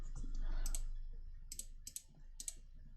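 Numbers keyed into a calculator, a few light plastic button clicks spaced irregularly, faint and close against a quiet room background.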